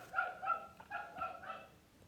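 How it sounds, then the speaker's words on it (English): Several dogs bark in a rapid series of yaps and barks, about five or six in a quick irregular rhythm, heard from nearby rooms at a moderate level with no talking. "Those are my dogs."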